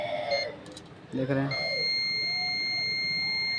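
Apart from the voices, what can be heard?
multimeter buzzer mode continuity beep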